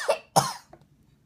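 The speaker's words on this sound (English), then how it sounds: "I just coughed on camera" Two sharp coughs from a person, close to the microphone, followed by a faint short throat sound in an otherwise quiet room.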